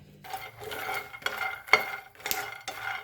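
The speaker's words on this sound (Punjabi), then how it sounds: "ਹੁਣ ਆਪਾਂ ਪੈਨ ਦੇ ਵਿੱਚ ਪਾ ਲੈਣੇ ਤੇ ਗੈਸ ਆਪਾਂ ਔਨ ਕਰ ਲਾਂਗੇ ਤੇ ਹੁਣ ਆਪਾਂ ਇਹਨੂੰ ਰੋਸਟ ਕਰਾਂਗੇ" Peanuts roasting in a pan on a gas stove, stirred in several quick scraping strokes with light rattling and clinking of the nuts against the metal, close and fairly quiet.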